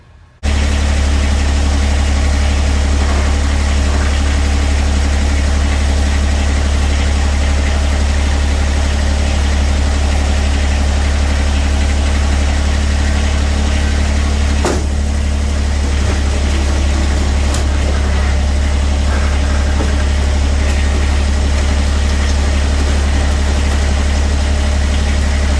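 A Kubota BX23S compact tractor with a 49-inch Nordic plow idling steadily, a loud continuous low engine rumble with vibration, while the plow actuator shifts back and forth with brief faint mechanical clunks.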